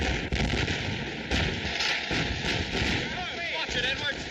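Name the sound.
gunfire from firing weapons in a movie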